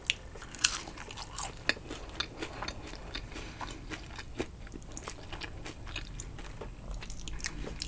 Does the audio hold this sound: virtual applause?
no